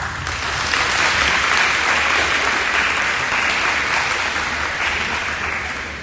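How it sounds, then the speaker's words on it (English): Loud, sustained audience applause at a high school awards day, dense clapping that holds steady throughout with no voices over it. "Let's give them a round of applause."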